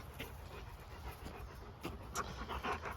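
A dog pants rapidly and steadily close by, quick rhythmic breaths with a faint whimpering edge.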